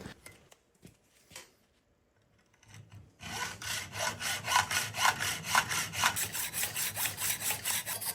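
A hacksaw cuts lengthwise through a garden stake steadily back and forth after a few quiet knocks, its rhythmic rasping strokes close and fairly loud for several seconds.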